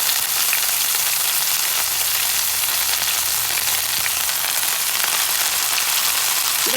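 Salted hilsa paturi fries in a pan over low heat, giving a loud, steady, even sizzle that holds without a break.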